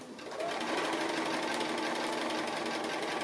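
A sewing machine running a continuous fast free-motion appliqué stitch, its close rapid mechanical chatter holding steady and loud for the whole stretch after a brief softer start.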